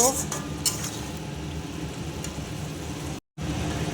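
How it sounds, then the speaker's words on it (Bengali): Ground spices with ginger paste, coriander and cumin powder are sautéed in a pan: a few sharp utensil clinks at the start, then a quiet, steady sizzle with soft stirring. "এবার সমস্ত মশলা ভালো করে কষিয়ে নেব"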